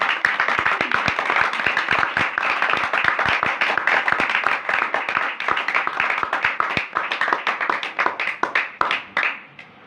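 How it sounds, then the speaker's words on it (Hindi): Loud, dense applause from an audience at a Hindi-language Christian religious gathering, continuous rapid clapping that swells and keeps going for about ten seconds before thinning out at the end. "तालियां नहीं, जरा दाब के बजाओ।"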